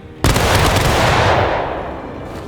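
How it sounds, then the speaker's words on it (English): A squad of Union Army soldiers fires a rifle volley in the game War of Rights, a single loud, dense crack of many muskets at once that rolls into a long, fading rumble. "All right, squad. Aim. Fire!"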